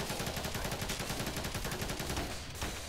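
Rockets fire in rapid succession during a video game shootout, a dense rattling burst of repeated blasts that runs steadily and loud before cutting off near the end.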